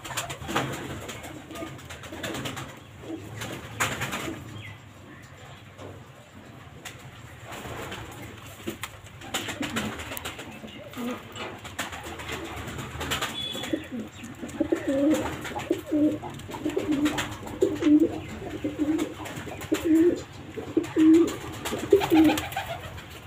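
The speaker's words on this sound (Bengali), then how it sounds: "এটা ব্রিডিং এর ঘর, সব ব্রিডিং পায়রা" Breeding pigeons in an indoor breeding loft coo in a low, steady murmur that grows busier and louder toward the end, several birds overlapping at close range.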